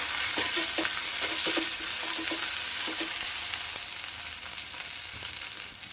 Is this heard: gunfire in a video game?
no